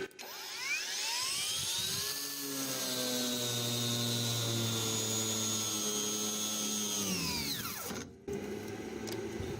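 A PATUOPRO angle grinder whines at high speed, then drops in pitch as it is pressed slowly into the work until it cuts off, spinning back up and winding down near the end.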